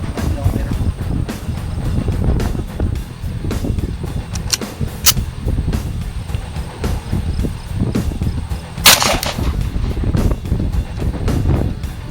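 A Smith & Wesson EZ9 9mm pistol fires into a penetration-test target outdoors, one sharp loud crack standing out over wind buffeting, with a few fainter clicks and handling knocks and voices talking nearby.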